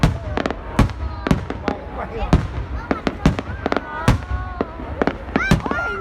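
Fireworks burst in a rapid, irregular barrage of sharp, loud bangs and crackles over several seconds, with people talking among the explosions.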